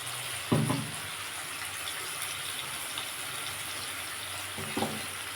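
Spice paste for dahi phulkopi (yogurt cauliflower) sizzling steadily in a pan after water is added, a continuous hiss with two brief louder clatters of a spoon or splash near the start and end.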